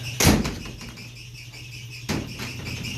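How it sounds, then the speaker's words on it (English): Two solid thuds from the door of a 1937 GMC T14A truck being swung shut, one sharp slam near the start and a second about two seconds later, with steady background hiss between. "And also, as Johnny's showing you, shut the door, Johnny."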